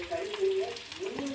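Six green chillies sautéing in a pan, a brief steady sizzle and light frying crackle heard close up, with a voice talking over it.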